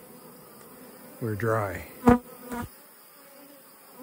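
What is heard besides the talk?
honey bees buzzing around the hives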